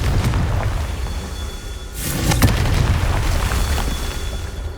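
A Confringo blasting spell in the video game Hogwarts Legacy lands as one loud, booming explosion about halfway through, preceded and followed by a rumbling in-game background.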